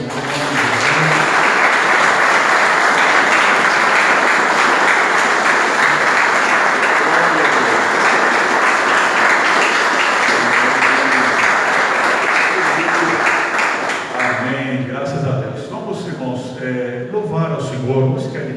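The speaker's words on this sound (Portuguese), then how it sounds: "Vamos aplaudir ao nosso Deus, em nome de Jesus." A church congregation applauds loudly and continuously in a dense, sustained roar of clapping, then it thins out as a voice begins speaking over the last few seconds.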